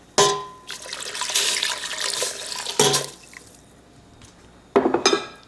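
Vegetable broth pours into a soup pot of okra soup, a close splashing stream lasting a couple of seconds, followed by another short pour with clinks of the pot.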